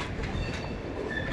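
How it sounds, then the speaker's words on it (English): A train rumbles past on a busy main railway line in central London, a steady low roar with faint wheel clatter and squeal running the whole time. "Fourth train coming through there."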